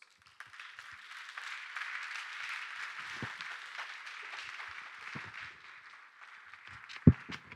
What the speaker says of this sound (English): Please give President Professor Matthias Mahlmann a big applause.